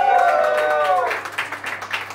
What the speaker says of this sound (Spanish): Aplausos para Madonna.